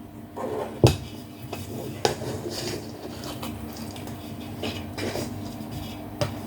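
A spoon scrapes and clinks against a bowl while stuffing for a roast dinner is stirred, with a few sharp knocks standing out from a low, steady scraping, close and fairly quiet.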